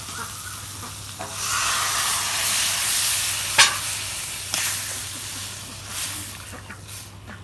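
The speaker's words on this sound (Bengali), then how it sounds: "এখন আমি ঝোলের পানি দিয়ে দেবো" Loud, steady sizzling and hissing of beef frying in a hot pan, with a few sharp clatters of stirring; no talking.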